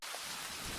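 Heavy rain falling in a village, a steady dense hiss with a low rumble rising near the end, continuous and fairly loud with no voices.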